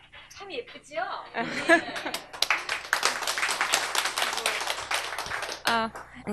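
Audience clapping rises to welcome guests at a Korean storytelling event, steady applause lasting several seconds with people talking and chuckling over it.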